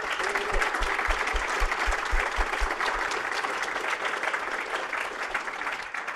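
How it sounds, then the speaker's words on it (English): Symposium audience applauding after a panel introduction, a steady, full round of clapping from a sizable crowd that tapers slightly toward the end, with faint low thumps early on. "please join me in giving a big round of applause."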